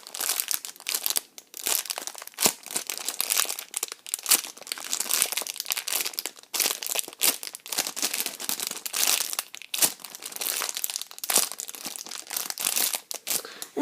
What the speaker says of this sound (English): I'll be taking this out of the packaging